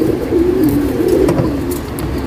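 Tournament racing pigeons coo in a low, rolling, continuous call, close and clear, with faint rustling behind it.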